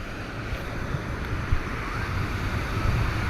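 Sea waves break and wash against a rocky shore in Spain, a loud, constant surf rumble with gusting wind noise buffeting the microphone and small surges of splashing.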